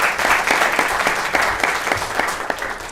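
An audience at a monthly awards gathering claps for the month's winners, a steady, fairly close round of applause with individual sharp claps standing out, lasting a few seconds with no voices.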